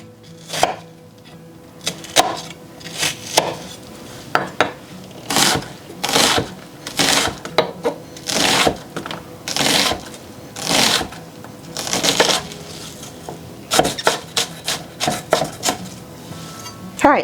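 A knife dices onions for corn relish on a cutting board, with rapid bursts of close, crisp chopping in rhythmic runs separated by short pauses, continuing steadily throughout with no talk.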